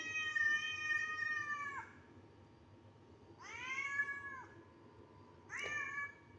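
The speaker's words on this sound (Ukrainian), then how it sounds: "Котику, чому ти плачеш?" A cat meows three times, long wavering cries with pauses between, close and clear over a faint low background hum.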